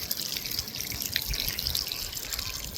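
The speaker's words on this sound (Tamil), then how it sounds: "தண்ணி ஊற்றிக்கிட்டு இருக்கிறேன்" Water is poured onto a newly built concrete house roof, giving a steady splashing, trickling hiss with faint dripping throughout the few seconds, close and fairly loud, with no voices.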